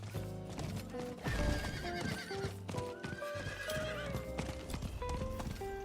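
Horse in the Diablo IV video game whinnying repeatedly over rhythmic clip-clopping hooves, mixed with game music and effects, fairly faint overall.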